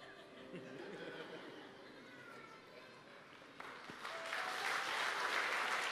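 Audience applause in a church service rises toward the end and stays steady and fairly loud, blended with crowd noise and some talk.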